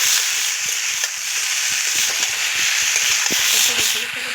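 Vegetables fry in a pan with a steady, loud sizzle, brief crackles and pops scattered throughout, and occasional scrapes as the mixture is stirred.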